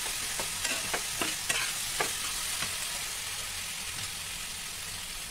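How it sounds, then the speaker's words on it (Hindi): Vermicelli (semiya) frying and being stirred in a pan: a steady close sizzle with a series of scraping stir strokes in the first half, then a continuous sizzle alone. "अब इसको फ्राई करेंगे।"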